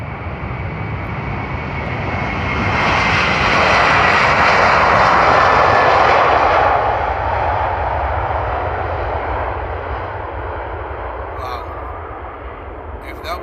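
Jet airliner taking off at Amsterdam Airport on CF6 engines, a loud roar that builds, peaks in the middle as it passes and slowly fades away, with faint voices beneath.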